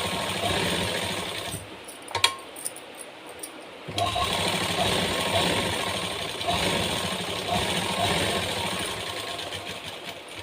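A sewing machine stitches blouse fabric with a steady, close mechanical whir that runs almost continuously, broken by a brief pause and a couple of clicks before resuming.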